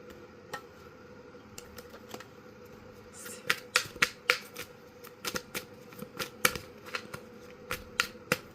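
Tarot cards being shuffled by hand, a quiet, close run of crisp riffling snaps and taps that grows busier and more rhythmic in the second half, no talk.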